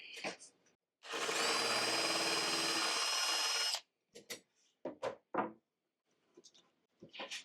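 A power drill whirs steadily for about three seconds, boring back through a workpiece from the opposite side via a small pilot hole, close up, followed by brief clunks and handling noises.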